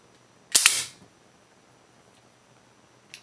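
A Lego rifle fires a single sharp, loud snapping shot with a brief hiss-like tail, followed by quiet and a faint small click near the end.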